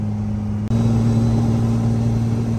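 A 1700 HP Cummins diesel truck with a 48RE transmission and hood stack cruises onto the highway, its engine a loud, steady low drone that dips briefly once and then resumes.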